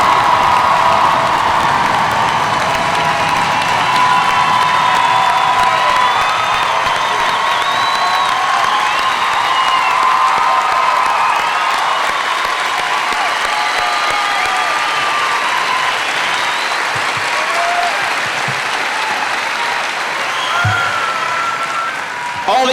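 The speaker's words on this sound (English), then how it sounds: "please join me in another round of applause for America's newest soldiers" Sustained applause and cheering from a large crowd at an Army basic training graduation at Fort Benning's Sand Hill, honoring new infantry soldiers; steady, loud clapping with scattered whoops throughout, fading slightly near the end.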